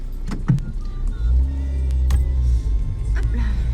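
A car maneuvers slowly as its engine hums low and steady, with a few brief clicks and knocks over the top.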